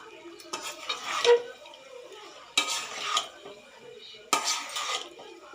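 Veg noodles with soy sauce being stirred in a pan, three bursts of scraping, clattering utensil-on-metal strokes separated by quieter pauses, close and moderate, with faint background sizzle.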